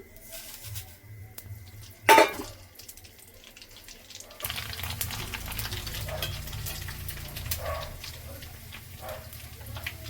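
Rice and besan jhuri fry in hot oil. A faint stir and a sharp clatter come first, then a steady, close, crackling sizzle fills the rest with no talk.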